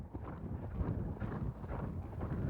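Hooves of a ridden horse clopping in a steady, uneven rhythm over ground while working cattle, muffled and low with wind rumble across the microphone.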